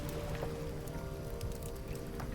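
Heavy rain falls in a steady dense patter on surfaces, a constant hiss of droplets without pause or voices.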